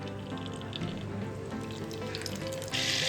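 Butter melts and sizzles in hot oil in a pan on a gas stove, a steady close crackling fry with a soft hiss that swells louder near the end.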